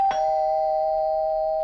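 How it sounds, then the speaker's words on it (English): A doorbell sounds with a single sharp strike, then a clear, steady tone that rings on without fading for more than a second, alone and fairly close. "My doorbell rang."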